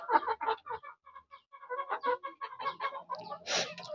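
Filipino chickens aged three to seven months cluck and chatter close by while feeding, a busy series of short clucks and squawks in quick irregular bursts with no talk.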